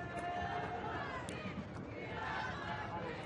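Stadium crowd at a Real Madrid versus Paris Saint-Germain football match, a continuous distant roar of fans in the stands with chatter and occasional shouts, faint and even.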